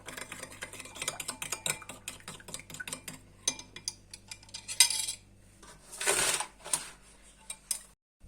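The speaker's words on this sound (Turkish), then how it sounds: "İyice bir karıştıralım." A spoon stirs homemade fish sauce in a bowl, metal clinking and scraping against the sides in a fast, busy run of close taps, then a pause and a few louder scrapes near the end.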